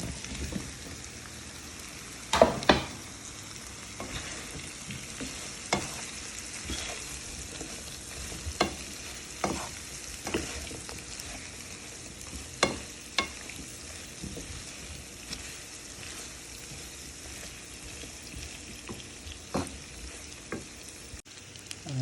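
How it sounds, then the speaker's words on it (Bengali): Beef liver stir-fried in a pan for a curry, a steady close sizzle broken by irregular sharp scrapes and taps of the spatula throughout, with no talking. "কলিজাটা আমি দশ মিনিট কষালাম"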